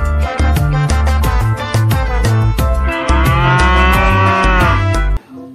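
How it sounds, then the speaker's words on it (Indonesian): A cow in the video game Jurassic World Evolution 2 moos loudly and up close, several long drawn-out lowing calls in succession with clattering game sounds beneath, ending in a sudden cutoff. "ini adalah seekor sapi."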